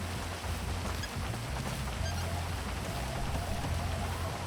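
Steady rain falls in a roleplay video game, a constant even hiss of drops on surfaces with no breaks, at moderate loudness and without voices.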